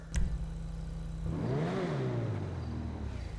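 An Invetero Coquette D10 in the video game GTA 5 Online, fitted with a level 4 engine upgrade, idles with a low rumble and then revs up and back down in one strong, close swell, with no voices.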